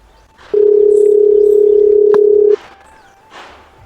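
Telephone line tone during a phone call, one loud steady electronic tone lasting about two seconds, then cutting off, with faint room sound around it.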